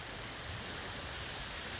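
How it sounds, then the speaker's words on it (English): Ocean waves roar in a dense, unbroken wash of surf, loud and steady, with a wind-like hiss and no distinct breaks. "the waves are just staggering"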